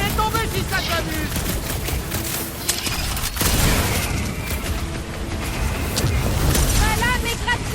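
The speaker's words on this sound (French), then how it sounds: "Rien ne peut résister à des explosions!" Dense explosions and blasts from combat in the Guardians of the Galaxy video game, a loud continuous barrage of booms and crackling fire layered with game effects.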